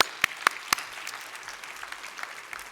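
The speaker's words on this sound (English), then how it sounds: "Give yourselves a round of applause." Conference audience at a town hall meeting applauds in a soft, distant wash of clapping, with a few sharp nearby claps standing out at the start.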